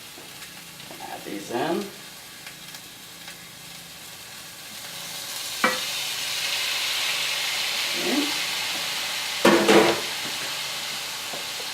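Peeled shrimp sizzle and fry in a hot pan for shrimp fried rice, a steady hiss broken by a few sharp crackles and stirring scrapes. A voice speaks briefly near the start.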